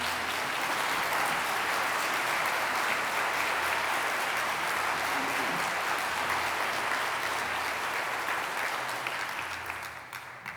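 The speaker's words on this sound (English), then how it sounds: "Applaud if you approve." Applause from a large audience at a celebration-of-life ceremony, voicing approval: a full, continuous wash of clapping that holds steady for about ten seconds before thinning toward the end.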